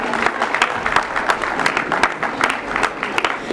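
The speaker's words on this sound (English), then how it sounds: "I request a round of applause once more." Enthusiastic applause fills a hall at a junior high school's annual day in Nairobi: a steady wash of many hands clapping close by, sustained throughout with no break.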